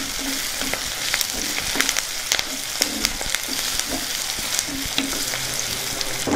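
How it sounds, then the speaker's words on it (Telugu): Onions, chilies, garlic and curry leaves fry in a pan for a gongura chana dal dish, with a steady close sizzle and repeated scraping knocks as a spoon stirs them. "మొత్తాన్ని ఒకసారి బాగా కలుపుకుందాం."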